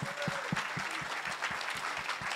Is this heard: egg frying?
no